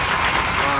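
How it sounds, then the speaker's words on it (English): Applause from an audience at a talk about living with HIV, a steady wash of clapping hands with no break across the short stretch. "I believe this woman need a applause"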